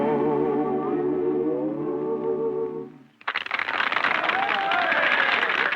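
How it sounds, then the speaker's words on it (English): A crowd at a 1938 barn dance breaks into loud, sustained applause right after a sung melody ends abruptly. The clapping is thick and continuous, with a bit of cheering mixed in. "Just listen to that applause and watch their faces"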